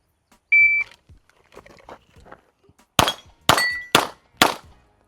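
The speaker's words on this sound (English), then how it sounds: "The second shot hit like the very top of the plate where it hangs on the hanger there." Four gunshots strike hanging steel target plates on a live-fire range, each a sharp ringing clang following a short electronic beep and some faint movement noise, the impacts loud and evenly spaced about half a second apart.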